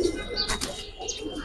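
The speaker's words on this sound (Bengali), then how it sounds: "কবুতর অনেকদিন পরে দেখলাম" A Giribaz pigeon gives low, muffled coos amid steady background noise, with a brief flutter-like burst partway through and no clear pauses.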